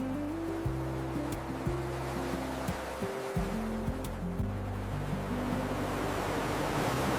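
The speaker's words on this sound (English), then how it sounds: "Listen to the waves. They sound very peaceful." Steady surf and wave wash at a beach, a continuous broadband roar with slow swells, audible under low-pitched background music with no talking.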